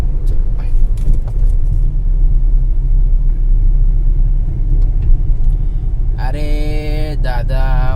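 A 2012 Maruti Wagon R LXI is driven, heard from inside as a continuous low engine and road rumble. Near the end, a loud, wavering horn blares in a few bursts.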